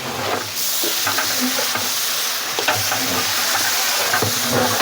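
Biryani masala with fresh fenugreek leaves stirred and fried in a large pot for a mushroom biryani, a steady close sizzle with scraping stir strokes and no talk.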